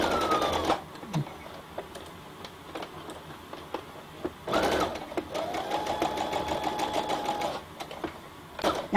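A sewing machine stitches a straight seam through underwear fabric with a 0.5 cm seam allowance, running in steady bursts that start and stop, loud and close, with a brief pause midway.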